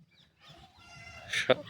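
Farm chickens cluck during morning chores. A few close, short calls build in loudness toward the end, with quieter clucking before them.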